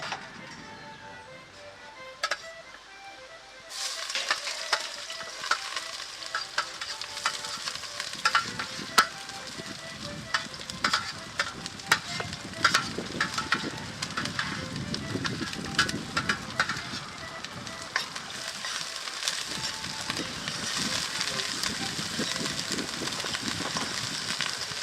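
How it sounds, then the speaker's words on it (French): Aromatic vegetables sizzle in butter and olive oil for a rice pilaf, a steady crackling fry with frequent clinks and scrapes of a stirring utensil against the pan, heard close and without talk. "Il consistait à mettre une garniture aromatique dans une matière grasse."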